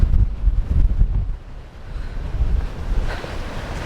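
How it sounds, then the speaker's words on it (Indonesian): Strong gusting wind roaring across an exposed mountain summit in a storm, a loud low buffeting rumble that swells and dips, with wind battering the microphone and no voices. "Anginnya masih kencang"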